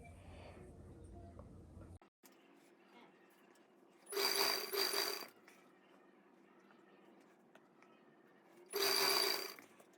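Sewing machine stitching lace onto plain cloth, running in two loud bursts of about a second each separated by a quieter stretch of low handling noise.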